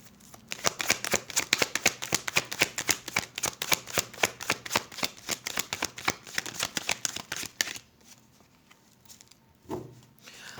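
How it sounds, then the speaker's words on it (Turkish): A deck of tarot cards is shuffled in a fast, steady riffle of crisp flutters for several seconds, close and clear, then the handling stops, leaving a short quiet stretch broken by one soft thump. "Birazcık daha kart alalım bakalım"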